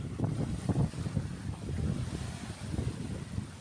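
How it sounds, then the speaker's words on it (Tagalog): Strong wind from a low pressure area on Burias, Philippines, buffets the microphone in gusty low rumbles, with a constant rushing noise behind it, loud and close throughout. "Tsaka malakas yung hangin."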